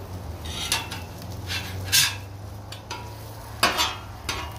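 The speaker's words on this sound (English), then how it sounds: "I'm gonna make mine over easy. Just barely cook the other side." Eggs frying over easy in a pan, a soft steady sizzle broken by several sharp scrapes and clinks of a utensil against the pan.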